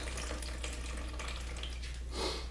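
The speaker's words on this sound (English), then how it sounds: "we're going to pour water out of it through this little sieve or sifter" A steady stream of water pours and splashes through a small sieve while making clay, with a continuous rushing wash and a slightly louder gush near the end.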